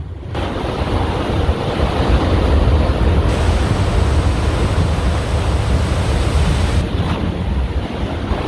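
Sea waves wash steadily onto a shore in a continuous loud broadband roar, with wind buffeting the microphone throughout and no voices.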